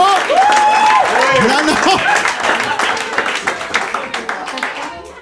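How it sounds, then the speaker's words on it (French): A comedy club crowd at Salle Le Foutoir bursts into loud applause and whooping, with a performer shouting over it. The clapping gradually thins and fades. "Non, applaudis pas ça, applaudis pas ça!"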